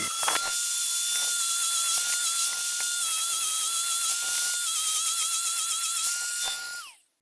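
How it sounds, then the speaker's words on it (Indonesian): A high-pitched power sander whines steadily for several seconds while smoothing a rough notch in wooden parts for an egg rack, close and loud, then spins down at the end. "kita melakukan pengamplasan lagi atau penghalusan yang bekas coakan tadi karena agak sedikit kasar."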